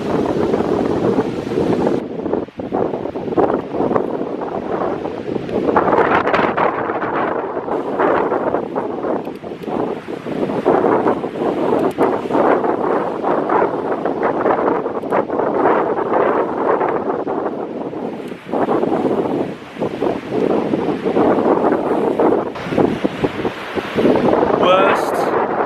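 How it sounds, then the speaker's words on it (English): Strong coastal wind buffets the microphone almost nonstop, a loud, rough rumble with gusts rising and falling and a brief lull near the end, with a voice speaking underneath. "is very, very windy, very, very loud."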